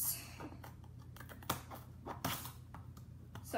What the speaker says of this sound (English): I've got a trusty scissors here, and we are going to cut open